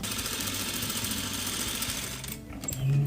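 Sewing machine stitching along a folded fabric edge during a clothing alteration: a fast, even mechanical rattle that runs steadily, then stops abruptly, followed by a brief low hum.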